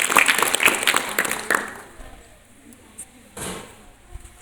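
Students in a classroom give a short round of clapping, a quick cluster of claps that fades after about a second and a half, followed by faint room noises and a couple of soft knocks.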